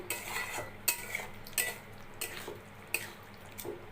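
A spoon stirs paneer curry with green chili and kasuri methi in a pan, giving a series of light, quiet metallic scrapes and clinks at an uneven pace with soft gaps between them.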